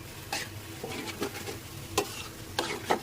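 Dried fish mash with jackfruit seeds frying and being stirred in a pan, a soft steady sizzle broken by repeated scraping strokes of the spoon, close and fairly quiet with no talking.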